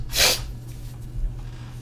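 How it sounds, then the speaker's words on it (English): A single short, sharp sneeze bursts out near the start, followed by quiet background hum and a faint breath. "This is a sneeze."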